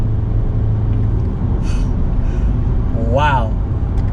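A Honda City car engine drones as a steady, close, low rumble from inside the cabin while the driver shifts through the gears, with a short voice-like rising tone near the end.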